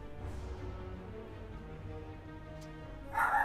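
A puppy in the card game Slay the Spire yips and barks in short bursts over steady game music, with a brighter cluster of yelps near the end.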